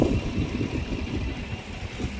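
A car engine runs rough with a misfire, a close, uneven idling rumble with irregular pulses and no speech.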